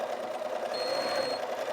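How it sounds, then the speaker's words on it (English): A thin, steady electronic beep sounds for about a second, the Bernina 530 stitch regulator's speed warning, over the low mechanical whir of the sewing machine running fast. "if you hear a beep, which I was going fast enough to get the beep"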